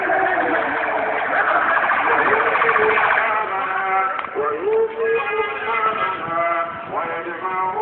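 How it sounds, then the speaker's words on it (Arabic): Many ambulance sirens wail together in Tahrir Square, Cairo, a dense, continuous layered whoop of overlapping tones that fills the whole stretch, loud and close with street crowd noise beneath. "عربيات اسعاف كتير قوي، اكتر من 100 عربية اسعاف قدام عينيا"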